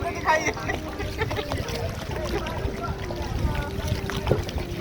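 A boat rides on the Dawki River in Meghalaya, with a constant wash of wind and water noise around it and people talking over it.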